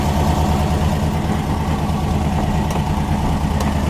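A 1955 Mercury Montclair hardtop's engine runs loud and close on the fast idle cam of the choke, with a steady, rough, throbbing drone that holds without pause as the throttle is kicked.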